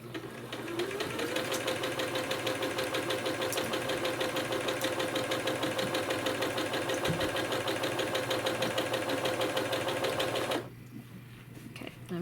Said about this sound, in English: I'm sewing a 1/4 inch seam